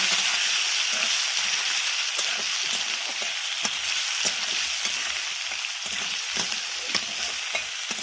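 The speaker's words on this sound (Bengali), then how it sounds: "এইবারে ধুয়ে রাখা ওলটাকে দিয়ে দিলাম ভালো করে নাড়াচাড়া করে নিচ্ছি" Chunks of washed elephant foot yam sizzle steadily in a hot pan with cumin, broken by repeated scraping knocks of a spatula as they are stirred, close and continuous with no talking.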